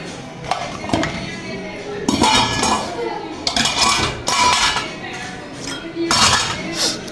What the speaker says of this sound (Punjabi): ਭਾਂਡੇ ਸਾਰੇ ਰੱਖਦੇ ਆ